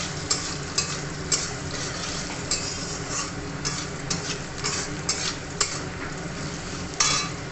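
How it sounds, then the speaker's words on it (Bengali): Onions fry and sizzle in a pan over a gas flame while a spoon scrapes and stirs them, with steady crackling and regular sharp clinks from the utensil. No one talks. "তো পেঁয়াজটা ভেজে ভাজা হয়ে যাক"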